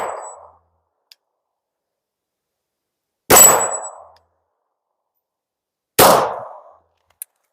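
A 9mm Glock 19 pistol is fired at a target: a few sharp, loud, widely spaced shots ring out alone, each with a metallic clang and a short decaying tail.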